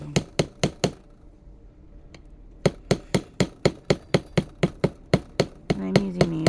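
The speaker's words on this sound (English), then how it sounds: "And just hammer away." Wire stock struck with a small hammer on a mini anvil over a rubber block while shaping a rosette ring: close, sharp metallic blows in a fast, even rhythm, with a short pause partway through before the hammering resumes.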